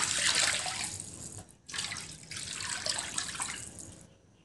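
Water pours steadily into a clean wok while cooking pancit bihon, a broad close rush that breaks off briefly at the midpoint, then resumes and tapers away near the end.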